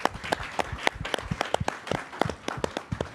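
An audience at a Justice Department forum claps, a modest crowd giving scattered, distinct individual claps at a moderate distance, continuous without a voice over it.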